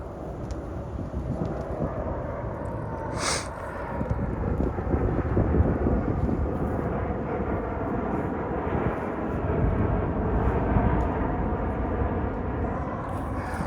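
A large aircraft approaches to touch down, its engines a steady broadband roar heard from a distance outdoors, with wind buffeting the microphone throughout.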